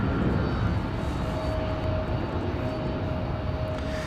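A Globe X airliner descends toward RDU Raleigh-Durham International at night with a steady, distant engine rumble and a faint high whine held throughout. No one talks.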